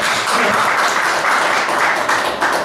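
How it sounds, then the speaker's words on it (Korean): An audience at a small lecture applauds a curator, a dense, steady burst of many hands clapping close by that holds at an even level throughout. "박수로 한번 좀 쳐주시죠."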